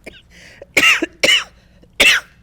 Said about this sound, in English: I didn't mean to make you cough.